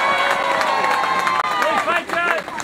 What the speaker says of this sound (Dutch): Dames en heren, een warm applaus voor Sven van Turnhout.